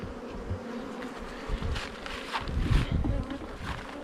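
A steady hum of many buzzing Norse honeybees at an open hive fills the air close by, swelling and fading slightly as individual insects pass near.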